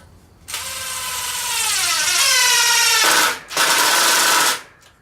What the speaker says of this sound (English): So I'm going to go ahead and start my screws